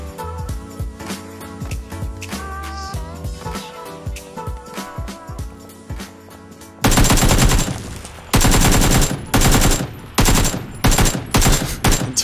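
Bursts of automatic gunfire in PUBG on Xbox, in a solo match: the first half brings lighter, scattered shots over game sound, then loud, dense volleys in repeated bursts that fire close by.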